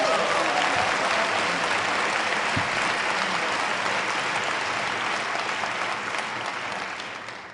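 Sustained audience applause at a debate, loud and dense throughout, many hands clapping together before slowly tapering toward the end.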